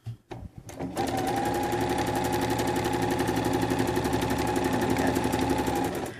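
A sewing machine stitches a patchwork cushion cover, starting after a few brief handling sounds and then running in a fast, even, continuous rhythm at close range.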